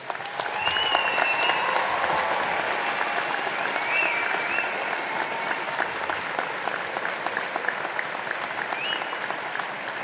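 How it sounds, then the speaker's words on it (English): A commencement audience applauds graduates walking back to their seats: steady, full clapping from a large crowd filling the space, with a few faint whistles rising above it, continuing evenly from start to finish. "let's give them another round of applause, please"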